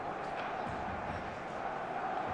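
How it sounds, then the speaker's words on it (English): Stadium crowd in the eFootball soccer video game, a steady dense roar of many voices filling the whole moment at constant loudness, with no clear chants or peaks. "The stadium is full of noise and energy."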